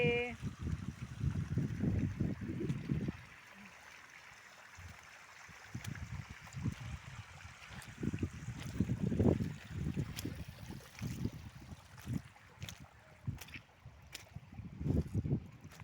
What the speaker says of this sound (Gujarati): જો પાણી ચાલુ જાય છે બધા ઢોરિયામાં.